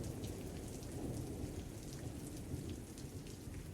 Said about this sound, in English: The rain paints my apartment windows with translucent fingers.